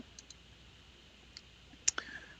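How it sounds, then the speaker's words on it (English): A few crisp, faint computer mouse clicks land sparsely in a quiet room during Photoshop editing, with a sharper double click near the end and no talking. "All you have to do is right click and choose fill."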